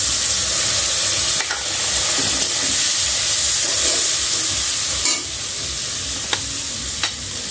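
Spice powder mixed in water poured into a hot pan for egg tadka: a loud, steady sizzle and steamy hiss with faint stirring scrapes, close up.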